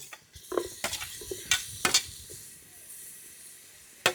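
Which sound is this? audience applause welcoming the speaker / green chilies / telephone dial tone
green chilies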